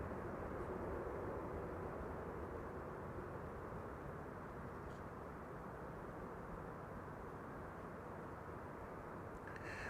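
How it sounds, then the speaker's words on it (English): A KLM Boeing 787-10 Dreamliner widebody arrives at Amsterdam Schiphol, a steady broadband roar of jet engines that holds evenly throughout, distant and diffuse, with no voices. "There it is, a 787-10 Dreamliner, 10 hours and 16 minutes underway."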